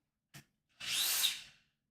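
A short tap, then a power drill whirs loudly for under a second before winding down, close by and otherwise quiet.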